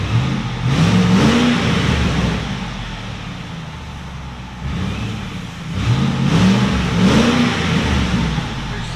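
A 2007 Ford F-150 Saleen S331 with a supercharged 5.4L V8 and Black Widow Widow Maker exhaust revs twice, each rise climbing to a loud, close roar and falling back to a rumbling idle, with no talk.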